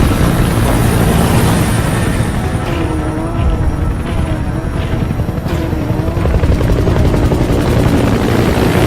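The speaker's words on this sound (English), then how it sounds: "Support helicopter requested." A support helicopter in the video game Metal Gear Solid 5: The Phantom Pain thuds with loud, continuous rotor chop and a steady engine whine, close and dominant with no talking.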